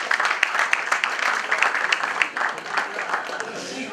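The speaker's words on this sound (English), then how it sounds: "Please have a round of applause" An audience at a literary festival event applauds, a brief steady burst of clapping from many hands with a voice speaking over it.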